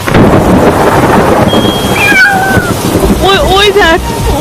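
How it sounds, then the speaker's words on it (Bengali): A black cat meows in a tense indoor scene, its rising, wavering cries coming close and loud near the end over a dense, rumbling background. "বিড়ালটা ডেকে উঠলো।"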